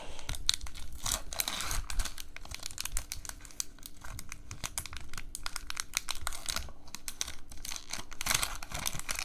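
A Masters 25 card booster pack wrapper is torn and crinkled open up close: continuous foil crackling and rustling that stays fairly quiet throughout, with no voice.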